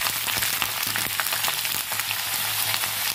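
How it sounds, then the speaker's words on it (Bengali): Onions fry in oil with green chilies and black cumin seeds, giving a constant close sizzle with fine crackles and no talking. "এর মধ্যে দেবো কালো জিরে দু চারটে। ভালো করে একটু হালকা করে ভেজে নেব।"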